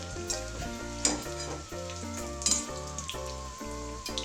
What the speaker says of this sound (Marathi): याला जास्त तळायची गरज नाही त्याला थोडंसंच तळून घ्यायचं आहे